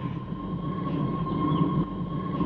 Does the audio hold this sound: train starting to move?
yes